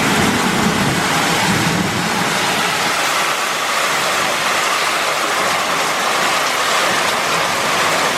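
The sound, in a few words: heavy rain falling on street during rainy season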